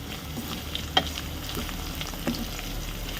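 Dried fenugreek leaves, kasuri methi, frying in a pan for a dried fish curry, a steady soft sizzle with occasional light ticks and pops, no voices.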